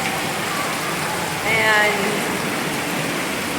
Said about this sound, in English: I absolutely love the rain, and I love the way it smells.